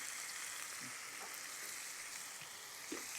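Chicken with ginger garlic paste, turmeric and salt fries in a pan, giving a steady soft sizzle with occasional faint stirring clicks. No one speaks.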